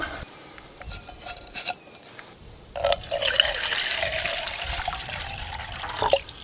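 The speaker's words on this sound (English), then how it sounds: "I'm going to get some water into my Pathfinder titanium cup." Water pours into a Pathfinder titanium cup at an outdoor morning camp. Faint trickles come first, then a steady, fairly close filling splash runs for a few seconds before stopping abruptly.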